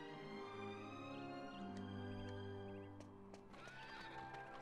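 A horse whinnies in Dragon Quest VIII, a long harmonic neigh over steady game music with light clip-clop hoofbeats, clear and up front.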